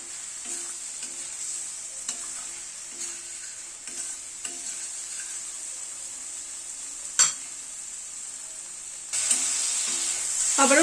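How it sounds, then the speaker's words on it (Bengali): Spice paste for a thin tangra fish curry with radish and brinjal being sautéed in a pan: a steady hissing sizzle with periodic scraping strokes, one sharp clank, and a louder hiss rising near the end. "আবারও প্রায় মিনিট 2 মতো কষিয়ে নিলাম"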